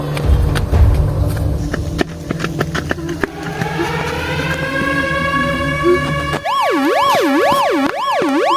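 Outdoors in a storm-damaged neighbourhood, a loud siren wails through several rising and falling cycles, first mixed with traffic and rumble, then ringing out alone with a strong oscillating tone near the end.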